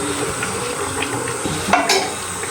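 Spices crackle in hot oil while tempering a dish, a continuous close sizzle with light stirring and a few clinks of utensil against pot, no talking.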